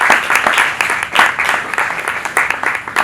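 Audience applause at a tourism media roundtable conference, with steady, dense clapping from a crowd, close and loud.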